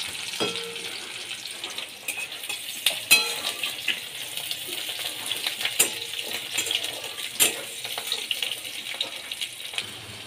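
Chopped onion frying in oil for a cauliflower, potato and egg dish: a steady close sizzling hiss runs throughout, broken by sharp clinks and scrapes of a utensil against the pan.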